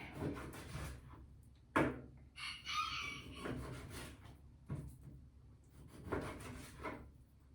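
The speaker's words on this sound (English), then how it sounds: "That is Jagger crowing in the background, saying, "What's for dinner?"" A pet rooster, kept for about ten years, crows in the background, with a loud squawking burst near the middle and fainter calls and soft knocks around it; no one speaks.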